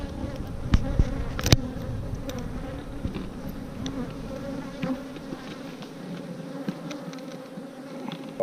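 Honeybees droning around an open Apimaye hive as frames are lifted during an inspection and split, a steady close buzz with individual bees zipping past the microphone and a few sharp clicks, no talking.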